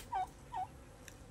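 A turkey caught in a trap set for wild junglefowl gobbles in two short nearby bursts, clear and fairly loud against quiet outdoor background.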